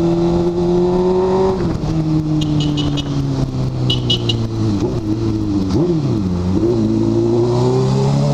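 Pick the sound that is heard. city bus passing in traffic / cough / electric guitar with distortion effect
city bus passing in traffic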